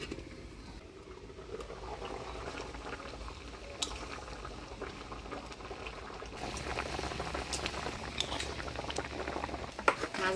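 Hilsa fish with green chillies simmering in a covered pot for a Bengali New Year meal, a steady close bubbling and sputtering boil with small pops that grows a little busier toward the end, no voices.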